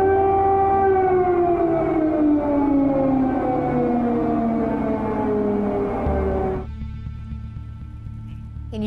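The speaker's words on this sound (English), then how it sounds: "Explosions rang out before dawn in the cities of Kyiv, Kharkiv and Odessa, followed by air sirens." A loud air raid siren wails steadily, its pitch slowly falling over several seconds before cutting off abruptly, leaving a lingering lower hum.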